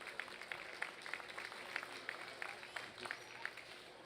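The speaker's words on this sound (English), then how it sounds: "if you please give them a round of applause" Faint, scattered clapping rises from spectators at a junior breeding gilt show for Duroc exhibitors, heard at a distance in a large barn with sparse, uneven claps and a low crowd murmur.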